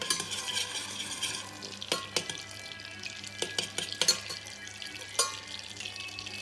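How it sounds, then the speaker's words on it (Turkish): Butter and dried mint sizzle in a pan for yoğurtlu köfte soup, a steady soft crackle broken by sharp scraping stirs and clinks of a spoon against the pan, with no one speaking. "Tereyağımızı koyuyoruz. Nanemizi alıyoruz."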